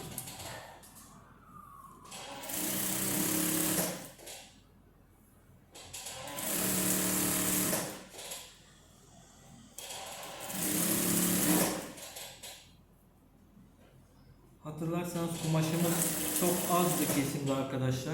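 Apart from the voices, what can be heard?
sewing machine stitching a wrap dress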